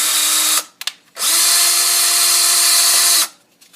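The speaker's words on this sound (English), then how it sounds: "I take my 9/64 inch drill bit. I'm going to drill the 3 holes." A power drill with a 9/64 inch bit bores holes into an untrimmed Stormtrooper helmet: a short whine, two quick blips, then one long steady high-pitched run before it stops, loud and close.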